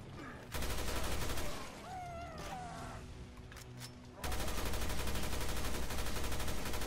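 Rapid automatic gunfire from a big gun in Resident Evil Revelations 2, heavy repeated bursts at the start and end with a shorter pause between them where a creature cries out.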